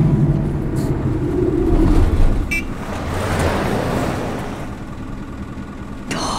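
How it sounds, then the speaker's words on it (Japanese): A bus draws in and comes to a halt on a road, its engine rumbling steadily and easing down, with a couple of short high squeaks or chimes and no talking over it. "バスが停車します。"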